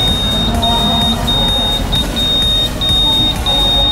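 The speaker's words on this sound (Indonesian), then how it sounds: "Nah, alarmnya nyala ini." A Honda Scoopy scooter's anti-theft alarm sounds close by as a loud, steady electronic tone with repeated beeps pulsing over it, backed by heavy low-end noise, and no talking.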